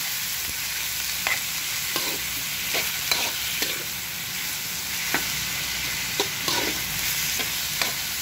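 Pork sautéing in a pan for batsoy, a steady sizzle of frying broken by scattered stirring scrapes and clinks, close and moderately loud with no talking.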